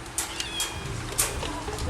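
A cat meows a few times in quick succession, close and fairly clear over a steady low background hum.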